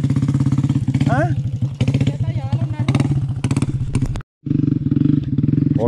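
A motorcycle engine idles and revs nearby in a steady throbbing beat, briefly cutting out before restarting, with people talking over it.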